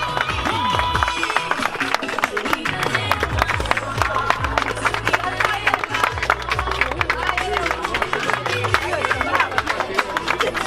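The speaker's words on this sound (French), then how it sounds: "acclamation s'il vous plaît, pour les mariés" Wedding guests clap and cheer the newlyweds in a continuous burst of dense applause mixed with crowd babble and voices, loud and sustained throughout.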